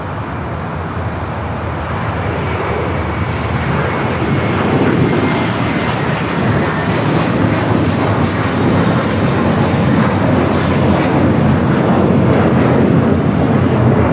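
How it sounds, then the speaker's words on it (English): An American Airlines Airbus A321 takes off from Los Angeles International Airport bound for Dallas-Fort Worth, its jet engines a loud, sustained roar that builds and holds steady throughout, with no talking. "American Airlines 2768 taking off to Dallas-Fort Worth on the A321"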